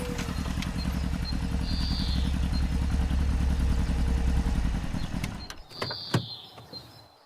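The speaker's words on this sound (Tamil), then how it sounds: "எப்போ ஆனந்த் வண்டியை நிப்பாட்டுப்பா" A motorcycle idles close by with a steady, rumbling drone for about five seconds. Then the engine cuts out, leaving faint outdoor ambience with a few bird chirps and light clatter.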